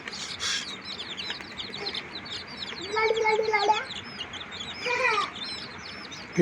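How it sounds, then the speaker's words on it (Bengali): A group of Japanese Bantam chicks peeps constantly with rapid, high, rising chirps close by. A louder call or voice breaks in briefly twice. "এগুলো পৃথিবীর সবচেয়ে ছোটো মুরগি জাপানি ব্যান্থাম"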